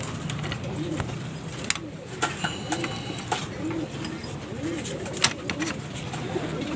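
Many fancy pigeons coo continuously in the background, soft repeated throaty calls, while a person talks over them and occasional wing flaps and clicks sound nearby.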